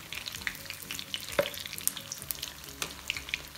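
Cheese samosas deep-frying in hot oil until crisp and golden, a steady close crackle of bubbling with a few sharper pops and utensil taps, no voices.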